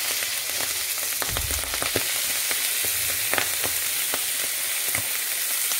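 Mushrooms browning in a pan with a splash of lemon juice, sizzling steadily with crackles and soft clinks of stirring throughout, close and fairly loud, no voices.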